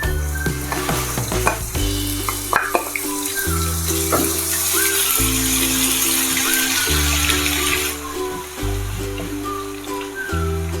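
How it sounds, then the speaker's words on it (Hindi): Garlic and ginger sizzle in hot oil while tempering mustard greens saag, a continuous bright crackling hiss heard close up for the whole stretch, with a steady low hum running beneath it and no talking. "ये लहसुन अदरक मैंने डाल दिया है।"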